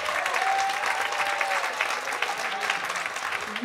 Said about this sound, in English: Have another big round of applause.